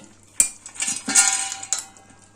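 A metal lid lifted off a pot of simmering rohu fish curry with mankochu and bori, giving a sharp clank followed by a few lighter metallic knocks and scrapes, close and fairly loud.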